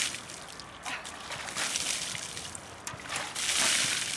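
Hot water splashes and pours over a person's body during a contrast shower outdoors, a continuous hissing, sloshing wash with surges, close and moderately loud, heard alone.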